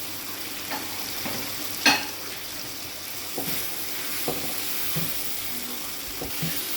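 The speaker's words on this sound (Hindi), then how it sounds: "अब हम इसको अच्छी तरह भूनेंगे" Tomato paste fries in a pan for an aloo bhujia, with a steady soft sizzle under intermittent stirring scrapes and one sharper clatter of the spoon.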